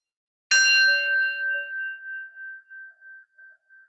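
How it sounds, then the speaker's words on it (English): A single bell is struck once to open a yoga practice. Its clear ring starts sharply, then decays slowly into a pulsing hum that fades over several seconds in a quiet room. "taking the sound of the bell, following it to the end."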